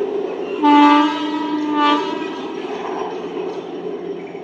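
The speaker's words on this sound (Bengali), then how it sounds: "দেখুন, এটা হচ্ছে 6 নম্বর ট্রেন" A Sealdah 12-coach local train sounds its horn in two loud sustained blasts close by, then rumbles on with steady rail noise.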